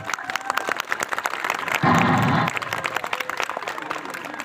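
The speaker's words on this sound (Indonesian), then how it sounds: "Nah, mana tepuk tangannya?" Crowd applause at an outdoor street show in a town field, scattered claps spread throughout, briefly covered by a louder burst of noise in the middle.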